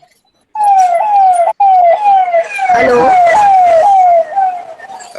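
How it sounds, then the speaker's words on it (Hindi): Ambulance siren wailing in a repeating rising-and-falling sweep, loud and close, running for several seconds with a brief cut, while a person speaks a short word over it. "इनका तो वो बजने लगा, एम्बुलेंस बजने लगी"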